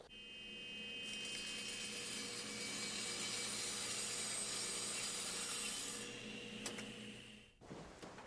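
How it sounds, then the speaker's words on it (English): A power saw cuts lengthwise through a wooden board tilted slightly off 90 degrees, a steady whining rip lasting several seconds before the blade spins down and a short clunk follows. "Now when I run it through the saw, it should follow that line."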